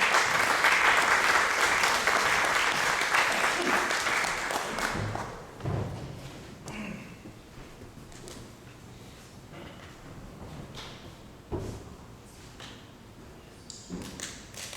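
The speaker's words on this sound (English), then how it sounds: "Let's give Lance a round of applause." Audience applause at a facilities-management event, a dense burst of clapping that fades after about five seconds, leaving scattered thumps and taps.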